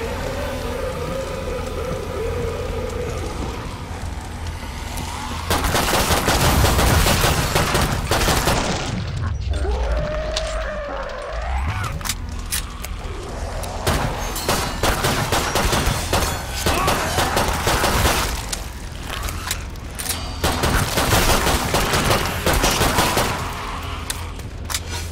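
Video game gunfire, rapid bursts and single shots crackling over a busy mix of explosions, sirens and background game noise, with a voice talking at times.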